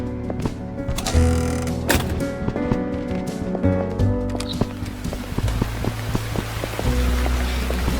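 Rain falls steadily in the horror game Burnhouse Lane, a dense patter of drops with rhythmic knocking hits and low tonal ambience underneath, loud and close throughout with no talking.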